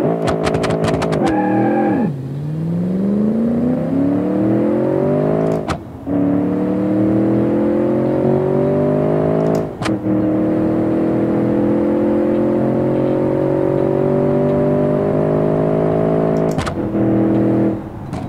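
The Butler and Jones Rumbler car in the game Automation accelerates hard: a loud, close engine climbs in pitch through long gear pulls, with brief sharp shift breaks, over a steady drone and no talk.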